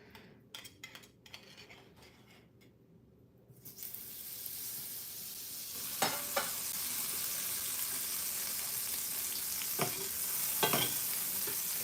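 Butter hits a hot pan for pancakes and breaks into a loud, steady sizzle after a few seconds of quieter clinking, with occasional utensil scrapes and taps over the hiss.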